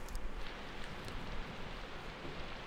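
Steady, dense rain hiss from the Persona 4 Golden video game on PS Vita, a continuous wash of falling drops with no speech over it.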